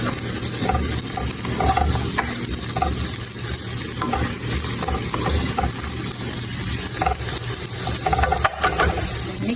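Garlic and onion stirred and fried in a pan with steady sizzling, clicks and scrapes from a utensil against the pan, no talking.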